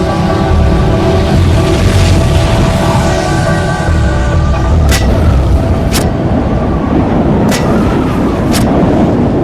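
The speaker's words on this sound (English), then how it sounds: "A series of booms could be heard hundreds of miles away." Volcanic eruption booms from Krakatau: deep, continuous low rumbling roar with heavy booming energy, loud and sustained, with a few sharp high whistling streaks appearing later.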